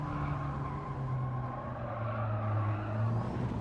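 A car engine drones and whirs steadily through a racing video game time trial on the Ring, a sustained mid-level tone shifting slightly in pitch with no voices.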